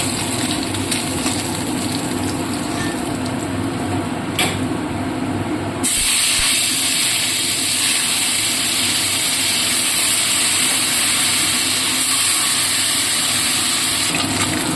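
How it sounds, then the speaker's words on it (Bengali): Fish pieces for a Bengali chili fish curry frying in hot oil in a kadai, a loud steady hiss and sizzle throughout that thickens after a brief shift midway, with no talking. "এরপরে আমি বাকি মাছগুলো সব ভেজে নেব"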